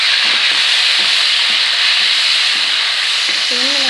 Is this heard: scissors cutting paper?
no